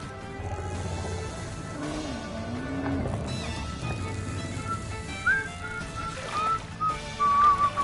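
A character whistles a wandering melody in Final Fantasy XV, the thin tones rising over a busy game soundscape with hoofbeats and ambient music, growing clearer toward the end.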